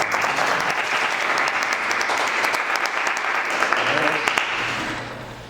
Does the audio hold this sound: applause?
yes